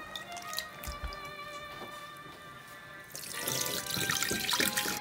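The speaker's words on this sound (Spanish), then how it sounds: "La vamos a hacer así para sacarle las impurezas y la vamos a enjuagar con agua" Water runs and splashes over soaked lentils being rinsed in a sink, a steady trickle with occasional drips that swells into a louder, fuller rush near the end.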